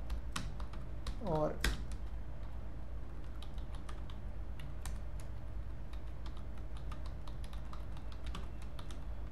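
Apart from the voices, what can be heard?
typing code on a computer keyboard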